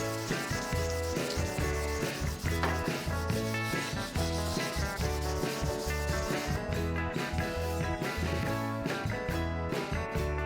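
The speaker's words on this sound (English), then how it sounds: "now it's just a matter of sanding it with 400." A Porsche 356 gas tank being sanded with 400-grit paper: a steady, close, continuous rubbing scrape with rhythmic back-and-forth strokes, fairly loud and with no talking.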